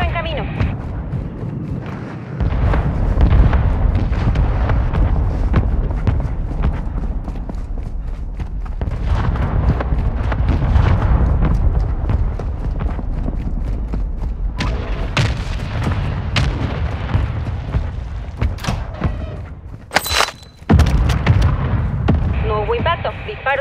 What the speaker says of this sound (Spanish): Ataque de mortero en camino.